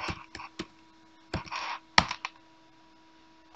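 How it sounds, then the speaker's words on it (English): Scattered key presses on a computer keyboard as a command is typed, close and crisp, in short uneven clusters with pauses, against a faint steady hum. "let's type sudo"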